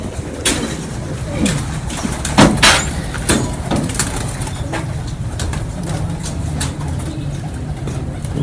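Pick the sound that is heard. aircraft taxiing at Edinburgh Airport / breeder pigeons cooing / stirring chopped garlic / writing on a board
breeder pigeons cooing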